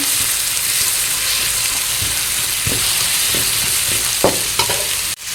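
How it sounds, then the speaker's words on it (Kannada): Ginger garlic paste fries in a hot pan for egg rice, giving a loud, steady sizzle up close with scattered stirring knocks and scrapes, then a sharp clatter at the end; no speech. "ಶುಂಠಿ ಬೆಳ್ಳುಳ್ಳಿ ಪೇಸ್ಟ್ ಹಾಕ್ತಿದ್ದೇನೆ ಹಾಕ್ಕೊಂಡು ಸ್ವಲ್ಪ ಹಸಿ ವಾಸನೆ ಹೋಗುವವರೆಗೆ ಫ್ರೈ ಮಾಡ್ಕೊಳ್ಳಿ"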